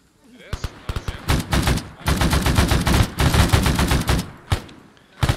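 Rapid M16 rifle gunfire in the Vietnam War video game Arma 3 Unsung: several loud bursts and single shots crack out in quick succession, with a few sustained automatic volleys and sharp isolated reports near the end.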